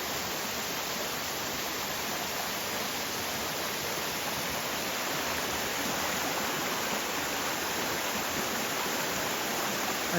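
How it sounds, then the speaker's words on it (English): Water rushes steadily and loudly from a waterfall and stream beside a hiking trail on the Wonderland Trail, a dense, unbroken roar close by with no talking. "who doesn't love a good waterfall?"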